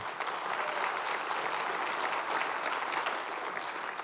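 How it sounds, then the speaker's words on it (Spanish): Steady applause from a large church congregation fills the whole clip, dense and continuous clapping with no pauses. "Dale un aplauso a Jesús."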